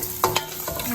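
Onions frying in a pan for a fenugreek leaf curry, a close steady sizzle with two quick scraping stirs of a spatula near the start, no talk.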